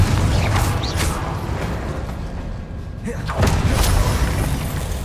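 Confringo explosive curse cast in Hogwarts Legacy: dense booming, rumbling game combat with a couple of sharp whooshing bursts, one mid-clip and a stronger swell toward the end, loud and close throughout.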